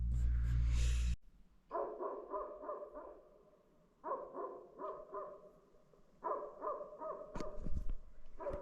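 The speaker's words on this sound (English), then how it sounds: "Wish that dog would shut up." A dog barks in the Bay of Kotor area, sending out three runs of quick, moderately distant barks. A loud rustling burst comes before them, and a brief knock lands near the end.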